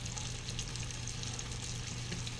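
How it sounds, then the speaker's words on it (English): Filipino lumpia spring rolls fry in hot oil, giving a steady, even sizzle and crackle with no pauses and no voices, moderately quiet and close. "You just start frying it."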